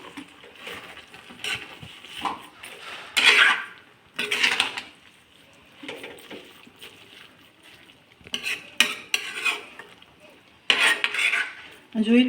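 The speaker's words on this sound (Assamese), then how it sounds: "এইখিনি এতিয়া ভালকৈ লৰাই দিব লাগিব।" Carrot halwa with almonds being stirred in a pan, giving repeated scraping and clinking of a spoon against metal in short bursts, close and fairly loud, with no talking.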